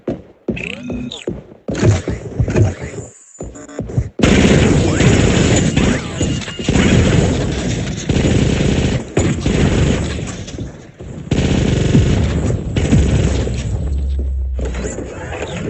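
Gunfire from a weapon in the video game Sweet Surrender, dense bursts of sharp cracks and heavy impacts in rapid sequence with brief gaps, loud and continuous throughout.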